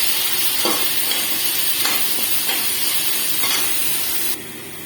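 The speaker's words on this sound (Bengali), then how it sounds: "এই আদা লঙ্কা বাটাটাও দিয়ে দেবো। দিয়ে একটু হালকা করে ভেজে নেব।" Ginger and chili paste frying in a pan for potato and cauliflower curry, a steady loud sizzle with a few sharp stirring scrapes at regular intervals.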